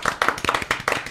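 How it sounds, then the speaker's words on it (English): Hands clapping close by to welcome a guest on a podcast, about five sharp, uneven bursts of claps in quick succession, fairly loud. "About how we clap guests."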